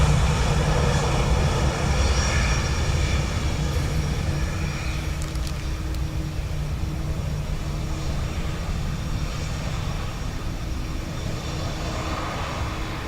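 An airplane takes off from runway 10 right at Dublin Airport in windy, wet weather, a loud broad engine roar that slowly fades as the aircraft climbs away.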